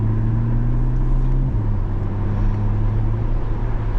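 A 500 horsepower C8 Corvette with its top down, driven at night, giving a steady low engine drone with a pitch step midway as it shifts, over constant road and wind noise.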